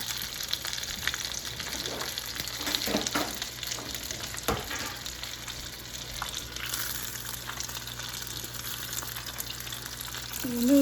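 Beer-battered fish fillets frying in hot oil, a continuous dense sizzle and crackle with a few stirring scrapes, close and steady throughout, no talking.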